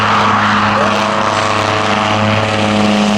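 A North American Rockwell OV-10 Bronco twin-propeller aircraft at an air show gives a loud, steady propeller drone with a sustained engine hum, close and unbroken throughout, with no talk.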